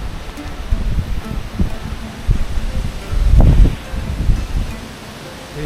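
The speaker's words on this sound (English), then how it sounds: "Wind sound is too high, but inside this forest it's bit reduced and the wind is also reduced." Wind moves through a forest near Port Blair, with gusty rustling of leaves and low rumbling buffets against the microphone that rise and fall throughout, fairly close and moderately loud.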